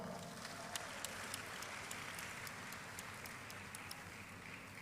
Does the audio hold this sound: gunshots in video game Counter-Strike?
no